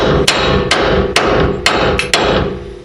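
A hammer taps a uniball into an aftermarket lower control arm, six sharp metallic knocks spaced roughly half a second apart over a steady background hum, close and loud.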